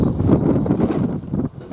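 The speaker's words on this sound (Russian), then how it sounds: "Вот это ветер." Wind gusts across a microphone outdoors beside a boiling samovar, a steady low rumbling buffet that dips briefly near the end.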